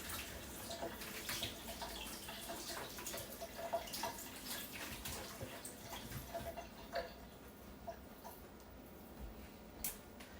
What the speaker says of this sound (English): Let me rinse my little whisk off here.